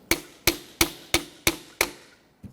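Six evenly spaced, sharp metallic hammer blows ring out close and loud as a frozen bushing is punched out of an alternator from a 2005-2021 Nissan Frontier 4.0L V6, followed by a softer double tap.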